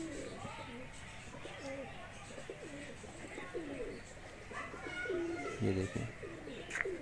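Teddy and Kamager pigeons in a breeder setup cooing in repeated low, throaty rolling phrases close by, while someone talks over them and faint chirps sound in the background.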